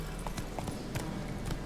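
Roach, a horse in a video game, walks with steady, rhythmic clip-clop hoofbeats over a dense, noisy background. The hoofbeats are fairly faint and come at an even pace.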